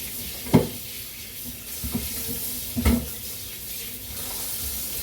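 Tap water running into a kitchen sink while defrosted beef is rinsed for a Korean-style stew, a steady close hiss of flow broken by a few louder splashes and clunks, no talking.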